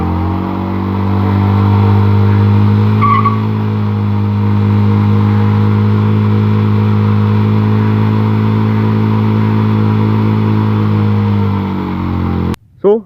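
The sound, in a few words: motorcycle burnout with tire squeal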